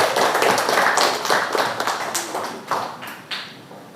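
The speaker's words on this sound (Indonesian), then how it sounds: "tepuk tangan untuk Nisa sama Rahmi" A classroom of fifth-grade pupils clapping for two classmates during a maths lesson; a brief burst of claps that thins out into a few separate, fading hand claps.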